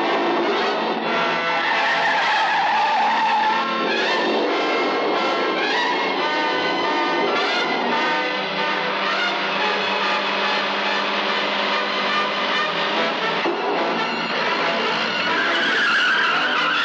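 Car tyres squeal and skid throughout a film car chase, a loud, continuous screech with shifting pitch that carries for the whole stretch, with no talking.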